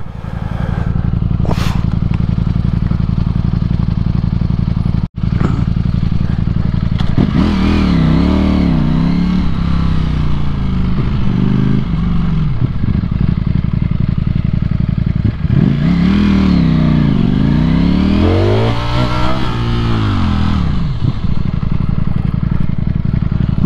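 A Ducati Streetfighter V4S motorcycle engine idles with a deep, steady rumble, then revs up and down in two sharp, rising bursts that fall back each time, loud and close, with a brief click near the start.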